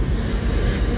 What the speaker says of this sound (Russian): Там еще какой-то поезд двигается.